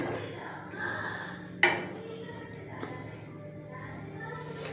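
Potato masala for puri being stirred in a pan, with soft scraping and quiet clinks of a spoon against the metal and one sharper knock, over a low background hum.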